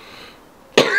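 A single sharp cough bursts in near the end, loud and close after a quiet stretch.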